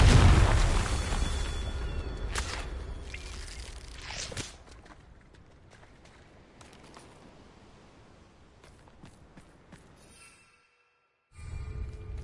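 A Confringo fire spell bursts in the Hogwarts Legacy video game as a sharp, loud boom that fades into a long rumbling tail, followed by quieter scattered cracks, a brief silence, then another rising blast.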